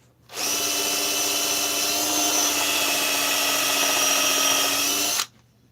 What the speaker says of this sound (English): Drill it down just a little further.